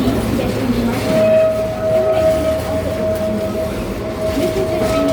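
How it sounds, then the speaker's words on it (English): Heritage train number 18 on the Six Gun Territory ride at Kirby Family Farms rumbles steadily throughout, with a sustained high tone from wheels or whistle running across the whole ride. "And the train we're on right now is number 18"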